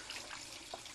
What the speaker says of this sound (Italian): Chiudi almeno il rubinetto, è quello dell'acqua calda.